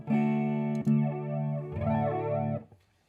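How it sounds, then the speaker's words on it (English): A sustained guitar tone through a Korg Pandora multi-effects unit's flanger, sweeping and whooshing up and down across a few held chords before cutting off. "it's alternating a flanger."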